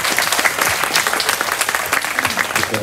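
Audience applause at a Balinese Legong dance workshop in Peliatan, a dense, steady clatter of many clapping hands filling the whole stretch at close range, with no pauses.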